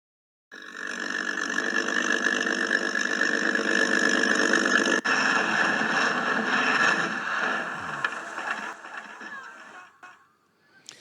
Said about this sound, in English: That was the sound of a Spitfire crash which took off on takeoff during the air show in